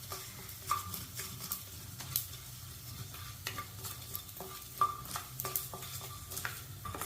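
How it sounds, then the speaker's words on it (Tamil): Coriander seeds dry-roasting in a pan for Pudukkottai chutney: a soft sizzle under repeated scraping, clicking strokes of a utensil stirring against the metal, irregular and close. "தனியா இன்னும் கொஞ்சம் வறுக்கணும்"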